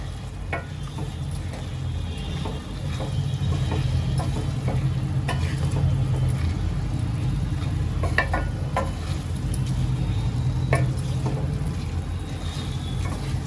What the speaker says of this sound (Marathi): आता तांदळाला मी सगळ्या भाज्यांबरोबर एकत्र करून घेते